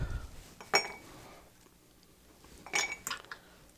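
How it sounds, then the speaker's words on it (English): Ice is dropped into a cocktail mixing glass while preparing a cognac Sazerac, giving a few sharp clinks and rattles close by, one early and a cluster near the end, with quiet pauses between. "So we're going to add our ice."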